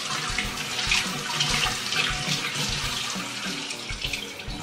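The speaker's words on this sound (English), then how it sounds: "So run it under quite a bit of water." Tap water runs steadily from a kitchen faucet over a leek with its root still attached, a loud continuous splashing rush into the sink with uneven spatter as the stalk is rinsed.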